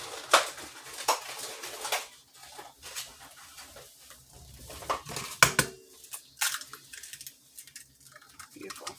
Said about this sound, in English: we're going to whisk our 1 egg